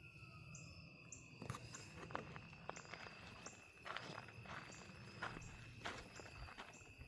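An armadillo shuffling and scratching through leaf litter at night in a graveyard, a run of soft irregular steps and rustles, fairly close, over a steady chorus of insects and crickets.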